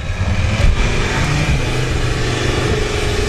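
A car engine drones loudly and steadily while driving, with a rough, rising revving tone and road noise throughout, no voices.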